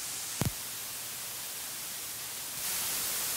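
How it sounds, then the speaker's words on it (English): Steady broadband tape hiss from a HoRNet Cassette644 cassette-emulation plugin, constant and fairly quiet throughout, with a brief low thump near the start and the hiss growing noticeably louder for the final second. "It's just making the hiss louder."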